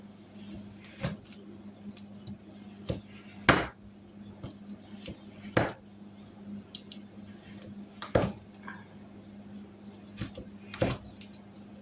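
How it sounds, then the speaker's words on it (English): A knife chopping chocolate thin on a board for melting in a double boiler, a sparse series of sharp, distinct knocks separated by pauses of a second or more, over a quiet background hum. "We're going to chop it up fairly thin so it'll melt faster."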